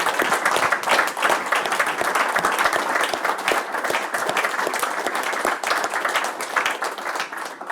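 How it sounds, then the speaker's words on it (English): An audience at a talk on UK and Scottish immigration policy applauds the speaker, steady and full clapping that holds at an even level throughout. "I think you're the one who deserves the applause"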